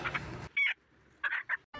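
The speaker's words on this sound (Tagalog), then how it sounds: "Ito pala yung napili kong manok, pilay na pilay pero ang bilis tumakbo." A chicken clucks in a few short, bright bursts, preceded by a noisy rustling stretch; moderately close, with quiet gaps between calls.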